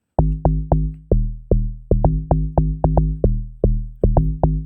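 Deep, pitched amapiano log drum hits layered over booming sub bass play a syncopated groove, each note punchy and decaying quickly, with no voices.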